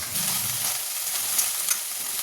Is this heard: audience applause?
no